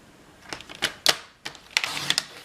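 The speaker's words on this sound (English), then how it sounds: "So we're going to cut these at a diagonal." Scissors snipping designer paper squares, 3 3/4 inches, diagonally into triangles for a pop-up card: a series of short, crisp cuts in uneven rhythm, close and fairly quiet.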